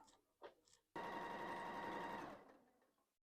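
Quilt blocks are stitched together on a sewing machine: a few small clicks, then one close, steady run of rapid stitching lasting over a second before it stops.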